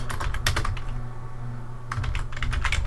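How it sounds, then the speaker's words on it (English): Rapid clacking keystrokes on a computer keyboard come in two close bursts separated by a short pause, crisp and near, with no talk. "So I'm gonna type in haunted places."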